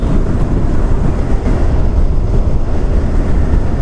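Yamaha R15 V4 motorcycle engine droning steadily under a mileage run, a loud continuous rumble with heavy wind buffeting and no pauses.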